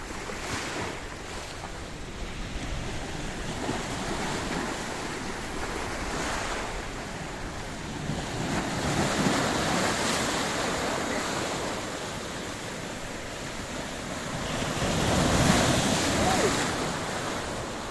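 Mediterranean Sea waves wash in at Paphos harbour in Cyprus, a continuous rushing surf with swells rising and falling, mixed with steady wind buffeting the microphone and no speech.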